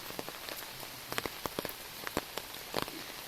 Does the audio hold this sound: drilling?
no